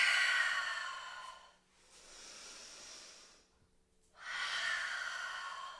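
Slow, audible exhalations during a pregnancy yoga session, two long breathy rushes of air separated by a quiet gap, close and soft with no talk.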